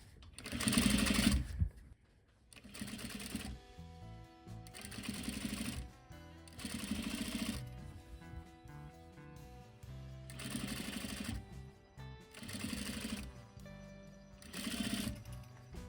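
A sewing machine stitches a zipper onto a fabric pillow in six or seven loud, steady whirring runs of a second or so each, separated by brief pauses, close up with no talking.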